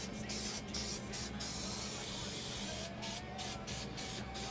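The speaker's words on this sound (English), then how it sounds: "Just spray a little bit of this in." Short hissing bursts from a spray can aimed into the underside of a 1959 Ford Galaxie body, close and loud, coming as several quick squirts at the start, then a pause, then another run of rapid bursts.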